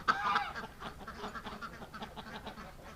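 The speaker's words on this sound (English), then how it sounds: "Because look at that, see, the geese are going back in there," Geese honking near a lean-to on a frigid winter morning, a busy overlapping chorus of calls at moderate distance, steady throughout with no talk.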